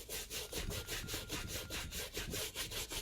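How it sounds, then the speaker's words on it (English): A medium bristle brush scrubs a sneaker midsole in quick back-and-forth strokes, a rhythmic close rasping swish repeating about every quarter second, alone and fairly quiet. "And so we have medium bristle brush, which is for the midsole"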